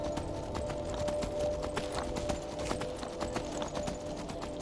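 A horse's hooves clip-clop at a steady trot in the video game Skyrim, a continuous rhythmic run of fairly quiet footfalls over a low ambient background.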